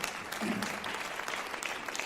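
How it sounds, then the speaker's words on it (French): Steady audience applause at a magic and music show in a conservatory in Caen, Normandy, a dense wash of many hands clapping throughout with a faint voice briefly underneath. "On peut l'applaudir, hein"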